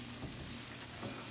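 Onions sautéing with a little salt in a pan give off a steady, close crackling sizzle with soft stirring scrapes, with no talk over it.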